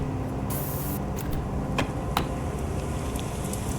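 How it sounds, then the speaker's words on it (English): Spray paint hisses in the space game Stationeers, a steady broad airy spray running under constant background noise, with a few short louder bursts of spray. "And behold, if you use spray paint in there, in the room here,"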